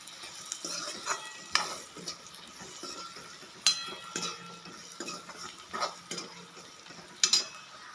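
Spices cooking in hot oil in a pan for an okra stir-fry, with a soft sizzle under intermittent scraping and clinking of a spoon against the pan, several sharp metallic knocks standing out.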